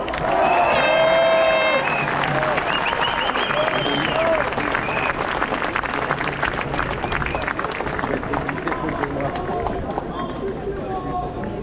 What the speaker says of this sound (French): on peut applaudir très fort Marc Boyer.